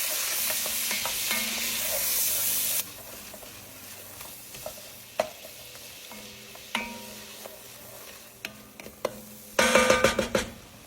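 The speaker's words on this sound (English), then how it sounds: "We diced up 1 yellow onion. We're going to let this cook for about 3 to 5 minutes." A diced yellow onion sizzles in a pot while a utensil stirs it, giving a steady hiss broken by scattered scrapes and taps, with a louder clatter of stirring near the end.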